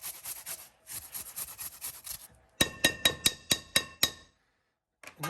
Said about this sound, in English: I'm going to grate fresh ginger into this.